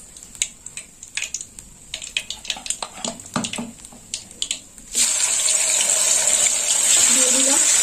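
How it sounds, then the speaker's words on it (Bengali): Rohu fish heads frying in hot oil in a home kitchen: scattered clinks and handling noises first, then a loud, steady sizzle bursts in partway through and keeps going to the end. "এবার বাকি মাথাগুলো আমি ভেজে নেব।"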